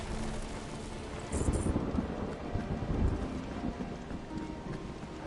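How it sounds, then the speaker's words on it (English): Thunder rumbles through a stormy scene in the video game Final Fantasy XVI, low and heavy beneath steady rain and wind, with a couple of louder rolling swells. "It's funny that it's like thundering in the game and it's thundering in real life as I'm playing."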